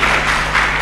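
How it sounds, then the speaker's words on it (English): A round of applause from the audience at an alumni network gathering of emerging public leaders: steady, dense clapping that fills the whole moment without pause. "Yes, a round of applause."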